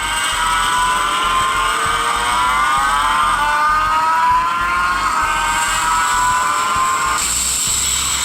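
Motorbike racing game Racing Moto playing on an Android tablet: a continuous loud synthetic engine whine that rises and shifts in pitch as the bike accelerates, steady throughout with no talk.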